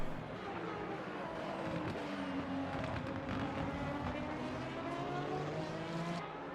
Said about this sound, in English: De Gaulle now has a Ferrari catching up to him